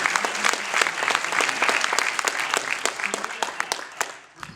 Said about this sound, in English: just a round of applause for the panelists here